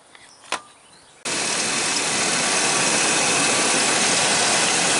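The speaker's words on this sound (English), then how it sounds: "Motor's running." A used car's engine catches after a faint click and then runs steadily, a loud, continuous close-up roar that holds without a break to the end.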